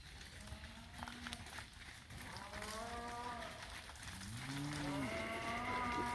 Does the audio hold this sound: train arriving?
no